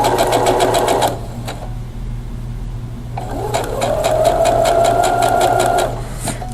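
Sewing machine stitching a holiday table runner, a loud close mechanical whir in two bursts separated by a brief pause, with no one speaking.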